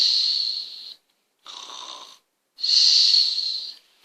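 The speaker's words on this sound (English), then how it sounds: "Let's hear you snore." Three drawn-out, breathy snores come up close, each a raspy wheezing rush separated by short silences, the last the loudest and longest, with no talking.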